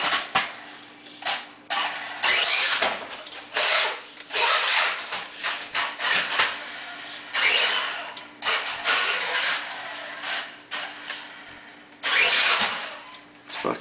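Losi Mini-T RC truck with its electric motor geared high, whining and revving in repeated bursts with brief pauses between, fairly close, no voices.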